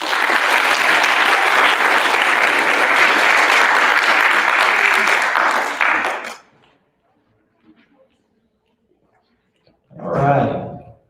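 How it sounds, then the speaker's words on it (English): Audience applause fills a school awards assembly for sixth graders, a loud dense burst of clapping lasting about six seconds before stopping abruptly; after a near-silent pause, a brief voice or murmur rises near the end. "So give yourself a round of applause."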